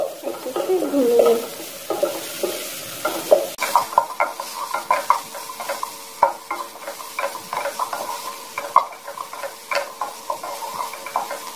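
Chopped tomatoes with spices fry in a pan for sabz turi, a soft sizzle under busy, close stirring strokes that scrape and tap in an irregular rhythm, with no one speaking.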